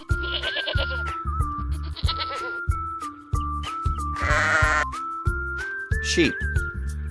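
Several goat bleats, a couple of softer cries followed by a loud, harsh one midway and another near the end, ring out over a bouncy musical backing with a pulsing low beat.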